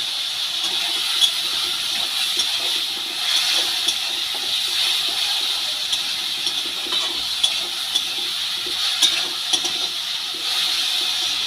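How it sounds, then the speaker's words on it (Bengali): Masala spices hiss and bubble in a pan after a splash of water is added, a steady, close, watery sizzle holding level for the whole stretch, with no talking. "সামান্য একটু জল দিয়ে দিলাম মশলাগুলো লেগে যাচ্ছে"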